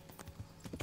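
Horse hooves clip-clopping at a steady trot in the medieval game Kingdom Come Deliverance, a few quick hoof hits close by, with some low rumble.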